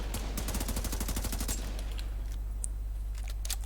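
Rapid automatic gunfire in the video game The Division 2, a fast burst of evenly spaced shots for about a second and a half, followed by a few scattered single shots after a short pause.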